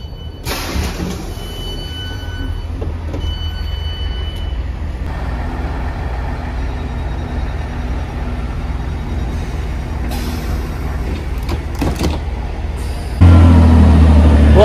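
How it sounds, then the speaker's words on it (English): A diesel train at Amersham idles with a low engine rumble throughout, with faint high tones and clanks, then swells abruptly louder near the end as it revs up to start. "These trains are really noisy. It's the diesel as they start up."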